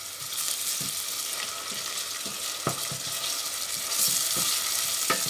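Ginger garlic paste sizzles steadily in a hot pan, a continuous bright frying hiss with occasional soft pops and stirring knocks, close and fairly loud with no talking.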